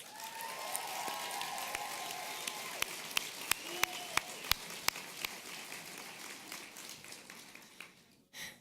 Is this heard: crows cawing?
no